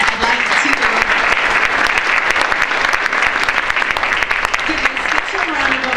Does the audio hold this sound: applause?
yes